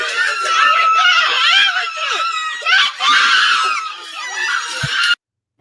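Women scream at the top of their lungs in a loud, continuous crowd, shrill overlapping shrieks and hollering sustained for about five seconds before cutting off abruptly.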